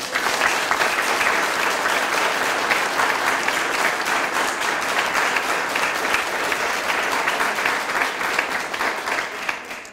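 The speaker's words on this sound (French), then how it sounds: "On peut l'applaudir très très fort." A hall audience gives a long, loud, dense round of applause at a town's New Year's wishes ceremony in Pineuilh, steady throughout with no voices over it.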